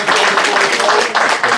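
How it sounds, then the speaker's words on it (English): A town meeting audience bursts into applause, a loud, dense burst of clapping from many hands that keeps up steadily for the whole moment. "Yes, give that a round of applause."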